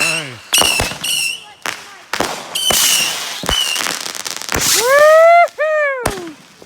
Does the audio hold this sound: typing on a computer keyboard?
no